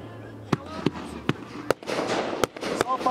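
Fireworks burst over a lake at a raft shoot, six or seven sharp separate bangs spaced through the moment with crackling and fizzing trails between them, fairly loud, with people talking quietly in the background.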